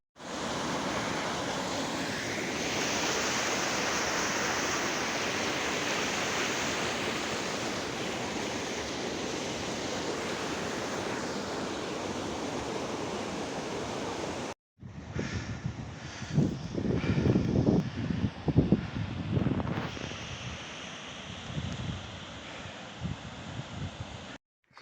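The River Dilar waterfall roars loud and continuous for about fifteen seconds, then a quieter, closer stretch of splashing water follows with bursts of wind buffeting the microphone.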